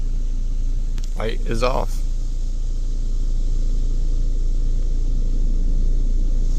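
A 2.0-litre Volkswagen Jetta engine with a misfire idling steadily, a constant low rumble throughout while a person speaks briefly near the start.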